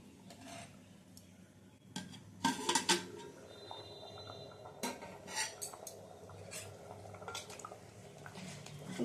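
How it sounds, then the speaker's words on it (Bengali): A metal lid is lifted off a cooking pot of soya khichdi, giving a few sharp clanks and rattles in the middle, then soft kitchen clatter and faint sizzling from cashews and raisins frying nearby. "হাঁড়ির ঢাকাটা একটু তুলে নিচ্ছি।"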